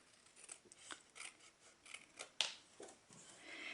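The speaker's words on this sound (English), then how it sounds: "I'm just going to take my snips. I trust myself to cut with scissors." Several crisp snips of scissors cutting paper, close up, with a sharper clack partway through and quiet gaps between cuts.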